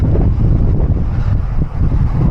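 Loud, roaring headwind buffets the microphone of a rider cycling toward the Gorges de Galamus, a dense rumble that is steady and unbroken, with no talking.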